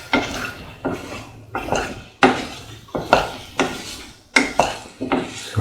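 A spoon scrapes and knocks around a pot as mango and plantain stew with spice powder is mixed, about eight rhythmic strokes each ending in a sharp clink, close and clear.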